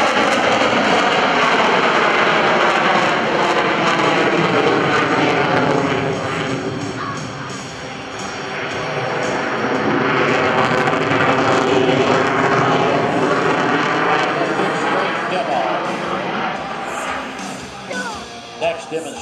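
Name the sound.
F/A-18C Hornet fighter jet flying airshow demonstration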